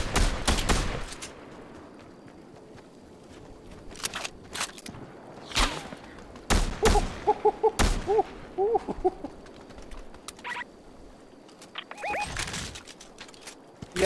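Video game gunfire comes as scattered sharp bursts and single shots spread across a quiet stretch, some loud and close, others fainter, with soft chirping sounds between them.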